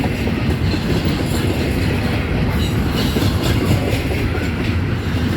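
A westbound Norfolk Southern intermodal freight train hauled by Dash 9 locomotives eases out of a curved siding at West Seven Mile, Ohio, its loud steady rumble and clattering wheels rolling on continuously nearby.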